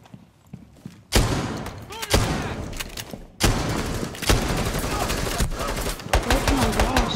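Loud gunfire in Rainbow Six Siege bursts in abruptly after a quiet start, with sharp shots and rapid clusters of fire, several sudden onsets, and voices heard between them.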